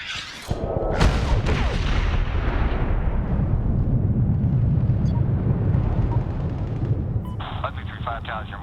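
Bombs exploding in the Medal of Honor video game: a sharp blast sets off a long, loud rumbling roar that fills the scene, with radio voices talking briefly near the start and end.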